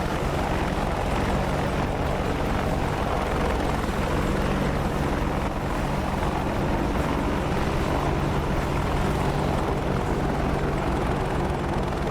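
A Gazelle helicopter flies in the DCS combat flight sim during a close air support mission, a loud, unbroken rotor and turbine drone filling the whole stretch with no voices over it.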